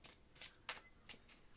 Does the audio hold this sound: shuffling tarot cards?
yes